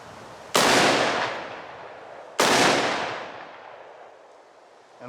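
Two loud, sharp shots from an Armalite AR-10A .308 rifle fitted with a red dot sight, about two seconds apart. Each crack is followed by a long rolling echo outdoors, and nobody speaks.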